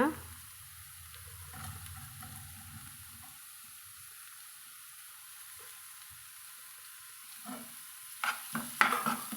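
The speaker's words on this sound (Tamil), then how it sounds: "எண்ணெயில் ஒரு நிமிஷம் இதை வதக்கி விட்டுக்கோங்க" Beetroot sautéing with onion in oil, stirred through for a brief fry to make beetroot poriyal: a soft steady sizzle with scraping stir strokes, quiet through the middle and busier utensil clatter near the end.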